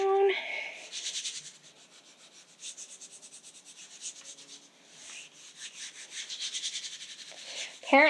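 Paper is pressed and rubbed down by hand onto a gelli printing plate, giving soft, repeated dry rubbing strokes in quiet bursts.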